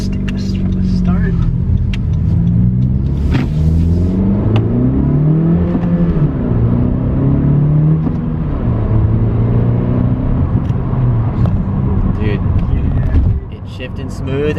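A 10th-generation Honda Civic with aftermarket shifter cable bushings pulls away and accelerates through several gear changes, its engine note climbing and dropping at each shift, loud and close from the cabin with a voice talking over it.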